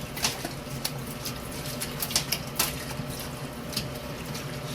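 Cooked noodles rinsing in a strainer under running water for Korean-style jajangmyeon: a steady close hiss of flowing water with small irregular splashes and clicks as the noodles are tossed.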